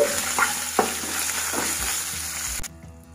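Spices with green chillies and asafoetida sizzle and crackle in hot oil, with a few stirring scrapes, before the frying sound cuts off abruptly.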